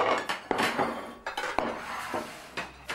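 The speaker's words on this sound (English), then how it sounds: "Putting out the finest silverware we have with the nice napkins, doilies" Silverware and dishes are set out on a table at an FDNY firehouse, giving a series of sharp clinks and clatters at an uneven rhythm, close by.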